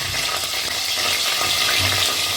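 Prawns fry in hot mustard oil in a kadai, giving a steady, loud, close sizzle that keeps up evenly throughout, with faint stirring and no talk.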